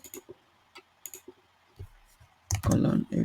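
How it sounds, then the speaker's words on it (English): Code being typed on a computer keyboard, a sparse run of light clicks and taps early on, then louder clustered clatter toward the end, with faint talk in the background. "Let me just type code."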